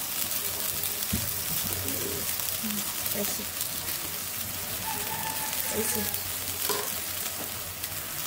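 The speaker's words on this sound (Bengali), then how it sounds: "মশলা কষানো শেষ হয়ে গেছে" Spice paste (masala) being fried and stirred in a pan makes a continuous hissing sizzle, like light rain, with occasional scrapes and knocks of a spoon. Faint voices come and go underneath.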